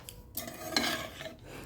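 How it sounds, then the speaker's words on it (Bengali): Ghee is stirred into a raw jackfruit curry in a pan, giving close, continuous scraping and clinking of a spoon against the pan with a soft background sizzle. "এবার ঘিটাকেও একটু নাড়াচাড়া করে খুব ভালোভাবে মিশিয়ে নেব।"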